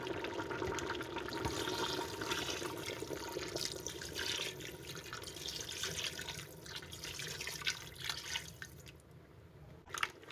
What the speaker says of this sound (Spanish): Pasado ese tiempo, agregamos el agua.